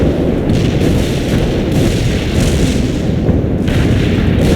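In the video game For the Motherland, an artillery barrage pounds continuously, a heavy, loud rumble of overlapping booms with no gaps.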